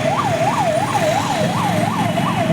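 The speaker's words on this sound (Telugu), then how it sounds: "సైరన్" A loud siren during a civil defence mock drill wails up and down in quick, regular cycles, rising and falling about three times a second over steady traffic rumble.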